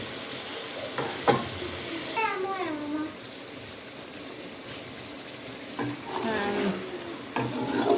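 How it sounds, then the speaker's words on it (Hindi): Mutton pieces sizzle in a pan of oil with chopped tomatoes and green chillies for matar gosht, a steady close frying hiss broken by a few sharp clatters of stirring and brief squeaky tones. "देखिए जी गोश्त अच्छे से फ्राई हो चुका है।"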